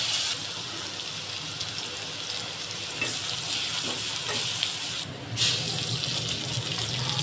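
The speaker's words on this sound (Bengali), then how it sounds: "একটু লবণ দিয়ে লাল লাল করে ভেজে নিব" Chopped onions with a little salt sizzle steadily in hot oil in a pan, a loud, continuous close-up fry with faint stirring scrapes, cooking for a potato-greens curry with small shrimp.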